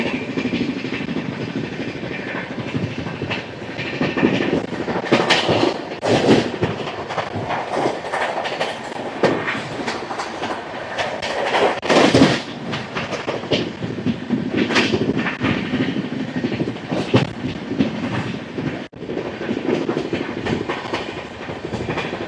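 The Gowthami Superfast Express runs at speed, a loud rumbling rattle with repeated clickety-clack bursts of the wheels, occasional sharper clanks and a brief squeal, heard from on board.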